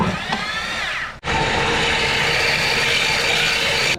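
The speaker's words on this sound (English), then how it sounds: "take it over to the bandsaw and cut it" Bandsaw cutting through a steel sway bar, a steady loud grinding whine that stops briefly and restarts, then runs continuously up close.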